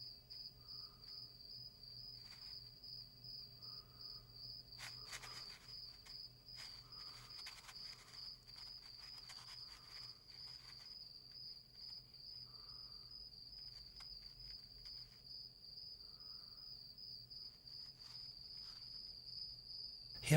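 A cricket chirps in a steady, continuous high trill, faint and alone against a quiet background with a few soft clicks.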